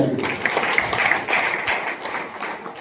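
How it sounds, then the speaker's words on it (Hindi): A seminar audience breaks into brief, loud applause. The clapping is dense at first and eases slightly toward the end, with a voice briefly audible at the start. "तालियां बजाएं।"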